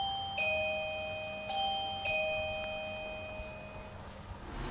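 An Avantek wireless doorbell chime rings three clear ding-dong tones in quick succession, bright and sustained, each note ringing out and slowly fading.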